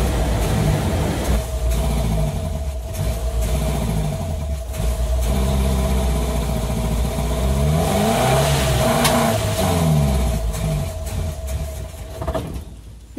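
A carbureted car engine pulls steadily at low speed, a loud, continuous drone with a rising and falling tone that fades slightly at the end.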